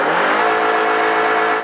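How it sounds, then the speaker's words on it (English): A Toyota engine revving hard at wide-open throttle in neutral while the car stays still, a loud, steady high-pitched drone held for nearly two seconds with no talking. "although the accelerator pedal is still wide open, as you can hear the engine, we're not moving"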